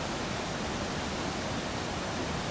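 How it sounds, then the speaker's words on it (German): The roar of the Epupa Falls on the Kunene River, a dense, unbroken rushing wash that stays constant and loud throughout. "Schon vom Camp aus hörten wir das Rauschen der nahen Epupa-Fälle."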